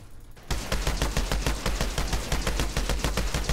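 Rapid automatic gunfire in the video game Outriders, a fast, loud, steady stream of shots that starts abruptly after a brief quiet moment and keeps going without pause.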